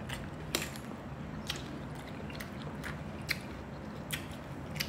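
Crunchy green mango, eaten with jicama and shrimp paste, bitten and chewed up close in a series of crisp crunches over soft background hiss, with no talking.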